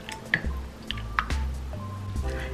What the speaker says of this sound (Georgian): დავამატოთ ვარდის დისტილირებული წყალი, ან ჩვეულებრივი დისტილირებული წყალი, თუ ვარდის წყალი არ აქვს